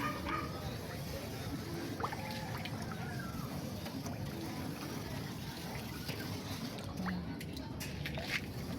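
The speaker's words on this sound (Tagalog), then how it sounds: "Ito yung pasaway na aso. Beagle." A beagle in a home garden yips, whimpers and barks in scattered short bursts, moderately distant, over steady outdoor background noise.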